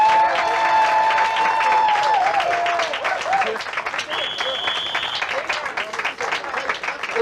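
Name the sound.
audience applause and cheering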